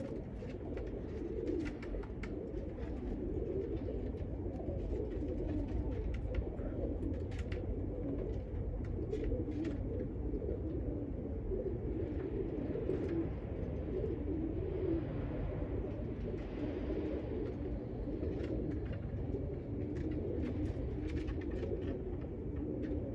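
Cumulet pigeons coo softly and steadily over a constant low rumble, with faint bird calls and distant background noise and no voices.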